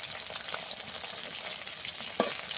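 Okra frying in hot oil in a vegetarian home kitchen gives off a constant, even sizzle, with a few soft stirring knocks and one sharper clink near the end.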